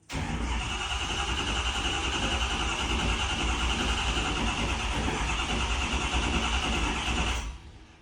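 A Ford F450 truck after a full DCR conversion cranks over steadily for about seven seconds, a loud, even, churning starter-and-engine drone that cuts off abruptly without catching, heard up close with no talking.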